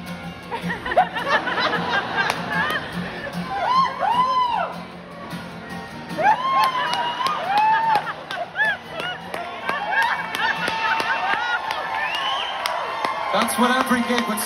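A concert crowd at a gig in Scarborough murmurs, chatters, laughs and whoops loudly with no band playing, a dense continuous roar of many voices in a large open venue.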